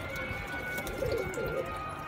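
Pigeons coo softly and steadily in a rooftop loft where grain is put out for them, with low throaty calls repeating over a constant background hum and no voices.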